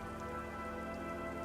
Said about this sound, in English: The sun is up and the rain is cold.